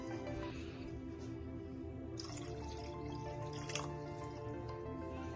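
About one and a half cups of water go into a pot of browned mutton for aloo gosht, a soft, continuous pour and dribble heard close and faint.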